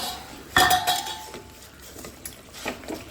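A metal lid clanks onto a karahi of mutton being slow-cooked with potatoes, giving a sharp ringing clink followed by fainter knocks and scrapes.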